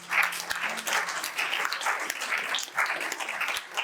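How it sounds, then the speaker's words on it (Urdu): Audience applause breaks out for a man during a church sermon, steady dense clapping that holds for a few seconds at moderate volume with a faint voice beneath. "تالیاں بھائی صاحب کے لیے بہت"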